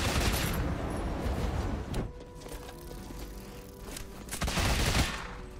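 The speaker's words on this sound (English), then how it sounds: "Lots of fireballs shooting around here." Fireballs shooting in Rogue Legacy 2, with loud bursts of rapid crackling blasts, a quieter middle stretch and a renewed loud flurry near the end, with no voices.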